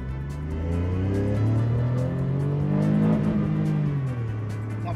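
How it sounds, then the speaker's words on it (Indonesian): A Daihatsu Ayla Turbo engine revs hard as the car accelerates from standstill through the gears, rising pitch sweeping upward, loud and close with a brief drop between shifts. "Kami langsung dari rem pindah ke gas untuk keselamatan semuanya"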